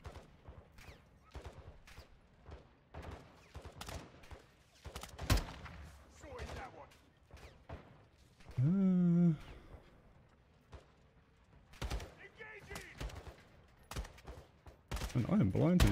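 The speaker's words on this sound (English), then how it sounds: "All I can see is the bullet fire." Gunfire in the Call of Duty Modern Warfare 2 campaign: sharp, scattered bursts of shots and impacts, some near and loud, others distant, with intermittent voices and a brief tonal effect midway.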